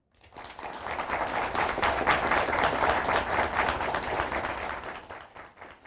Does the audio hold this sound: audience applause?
yes